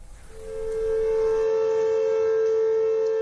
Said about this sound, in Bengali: হামলা সতর্কতায় বাজছে সাইরেন